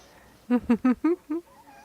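A cat meows several times in a quick run of five short calls, close and fairly loud, in a quiet indoor room.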